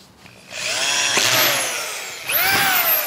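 A power drill runs loud and close as it drives screws into drywall sheets, one long whining spin-up that winds down, then a second rising burst.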